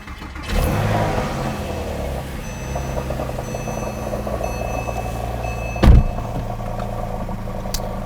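A cold 2007 Porsche Carrera 4S engine cranks and catches, then settles into a steady idle with a faint high whine, broken by a brief loud clunk near the end.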